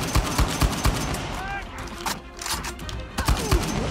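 Gunfire from the Uncharted 4 video game: bursts of shots crack out near the start and again near the end, loud and sharp, with a quieter stretch between and some speech mixed in.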